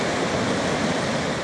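Floodwater rushes through a village after a hailstorm in northern Romania, a loud, steady broadband roar with no pauses.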